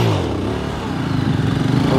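A stunt motorcycle engine growls steadily at moderate revs while the rider holds the throttle for a balance trick, a loud, close, rough drone with a faint rhythmic pulse and no voices.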